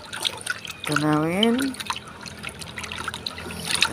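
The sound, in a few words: water being poured into plant fertilizer mix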